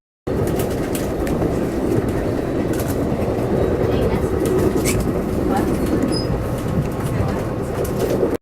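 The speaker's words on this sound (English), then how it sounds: "what you just saw was me on my third train" From inside a moving train comes a continuous, fairly loud rolling rumble and hiss, with faint rail clicks scattered through the ride.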